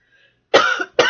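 Two short, sharp coughs close by, the first slightly longer, separated by a brief pause after a moment of near silence.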